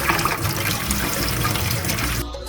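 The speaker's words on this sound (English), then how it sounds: "we're washing 3 cups of rice" Water runs steadily from a tap and splashes over three cups of rice in a bowl, a dense continuous rush that cuts off abruptly near the end.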